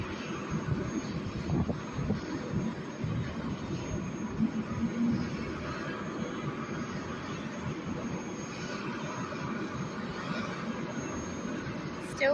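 Steady, loud rumbling roar of a helicopter engine idling nearby before takeoff, broadband and continuous throughout with little change in level.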